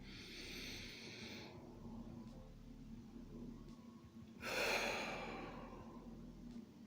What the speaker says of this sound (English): When you breathe in like this.